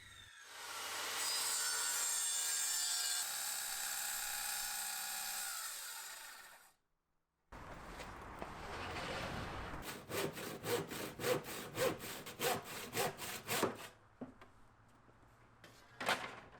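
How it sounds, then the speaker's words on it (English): A handsaw works through a wood board, first in a long continuous rasp, then after a short pause in a run of quick, rhythmic back-and-forth strokes, close and clear with no talking. "finish the cut with a handsaw"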